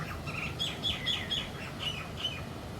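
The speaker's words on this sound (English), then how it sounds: "We got the soundtrack of the ocean and birds going on." Bright bird chirps from an ocean soundtrack repeat in quick short phrases over a soft, steady wash of ocean background noise.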